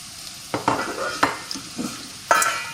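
Onions frying in a pan being stirred, with several sharp scraping strokes of the utensil over a soft, continuous sizzle close by.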